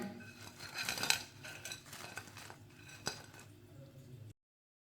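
Freshly fried crispy chilli pakoras are moved from a strainer onto a plate with a run of close, light clinks, taps and scrapes of utensils against dishware, with no voices.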